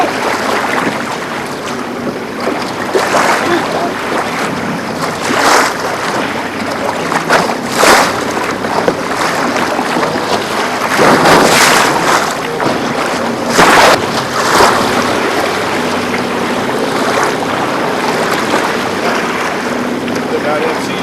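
A canoe crew paddles across open water, with steady water wash and wind buffeting the microphone, broken by occasional louder splashes of strokes throughout.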